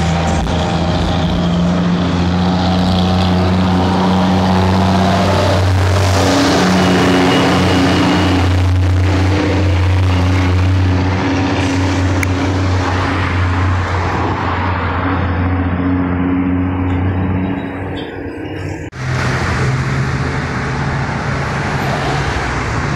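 Concrete truck and pump truck running at a construction site, their engines making a steady low drone with a persistent hum, mixed with passing road traffic before things quiet slightly near the end.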